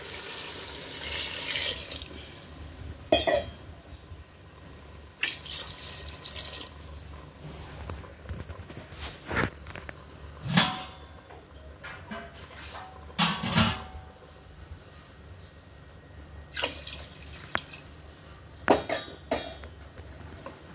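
Water runs and splashes into a cooking pot while goat leg paya curry is prepared, with intermittent pours, drips and clatters of kitchen handling; no talking.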